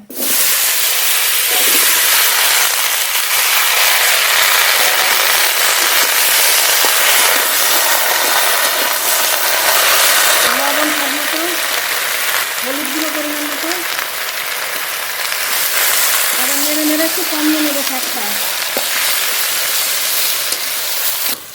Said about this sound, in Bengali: কেটে ধুয়ে রাখা পুঁই শাক দিয়ে দেবো